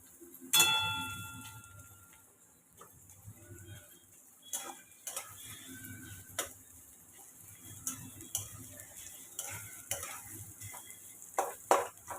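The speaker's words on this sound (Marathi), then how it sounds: "त्यातला अर्धा कांदा आपण तळून घेऊया" Onion frying in hot oil in a kadhai, with soft sizzling under repeated sharp stirring clicks and scrapes of a spoon against the pan, close and irregular.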